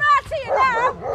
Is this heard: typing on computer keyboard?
no